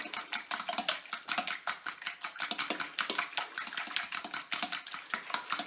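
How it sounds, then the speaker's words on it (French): Broken eggs being mixed in a bowl for a crab flan, a steady run of quick clattering strokes against the bowl's side, close and fairly loud with no voices. "maintenant que mes œufs sont cassés, eh bien, je vais mélanger"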